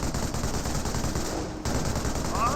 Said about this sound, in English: And he does find this machine gun placement.